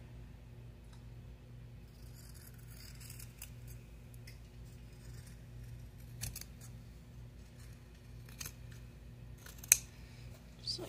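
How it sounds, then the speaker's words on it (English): Scissors snip the corners of sewn fabric for a small playing card holder, giving a few faint, sparse cuts over a steady low hum in a quiet room. "I'm just going to cut my corners."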